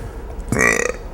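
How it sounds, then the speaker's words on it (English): A woman burps on cue before a stand-up comedy audience, a single short, fairly loud belch over faint room noise. "I can burp on cue."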